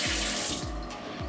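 Water runs steadily from a bathroom sink tap, a close, continuous hissing stream heard alone with no talk.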